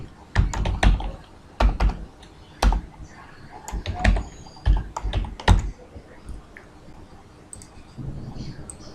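Irregular bursts of keystrokes on a computer keyboard while entering numbers into a Microsoft Excel spreadsheet, loud close clicks and thumps in clusters with pauses between them.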